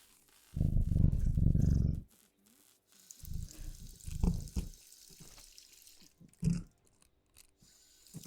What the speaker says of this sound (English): I'm gonna put him purring on you.